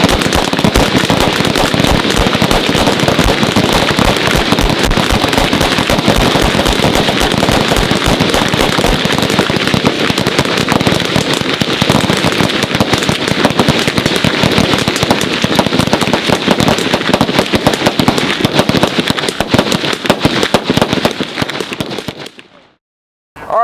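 Heavy .50 BMG rifle fire hammering an E-50 steel silhouette target at a range, a dense, continuous barrage of loud cracks and impacts lasting over twenty seconds before cutting off abruptly.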